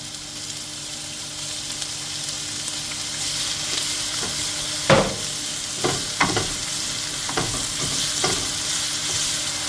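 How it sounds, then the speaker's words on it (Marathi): Onion fries in a pan with ginger and garlic, a constant close sizzle broken by several scraping knocks of a spoon stirring, with no speech. "ऑनियन बरो भाजून दाखयता मागीर."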